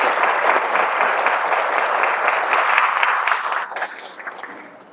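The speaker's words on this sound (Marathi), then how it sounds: "एकदा हनुमंतरायासाठी जोरात टाळ्या होत्या." An audience at a devotional satsang claps loudly for Hanuman, a dense burst of applause that holds strong for about three seconds, then thins and trails away toward the end.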